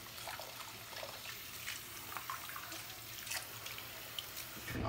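Water running from a tap into a clogged bathroom sink, a faint steady splashing and trickling with no voices.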